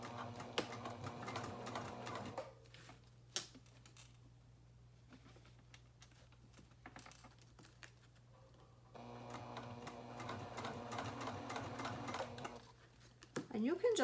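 A sewing machine runs a 3 mm stitch on fabric, backstitching at the start and end, in two steady whirring runs with a quieter stretch between them over a constant low hum.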